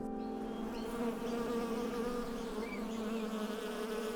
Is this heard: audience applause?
no